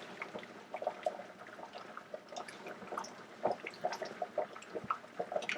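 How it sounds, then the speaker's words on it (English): Half and half is poured a little at a time into a homemade Cajun Alfredo sauce. Quiet trickling and dribbling pour sounds come with small irregular splashes and drips, close and faint, with no talk. "What I'm going to do now is I'm going to start adding my half and half."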